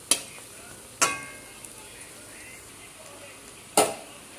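Potato fritters frying in oil in a pan as they are turned over, a quiet steady sizzle broken by three sharp clinks of a spatula against the pan.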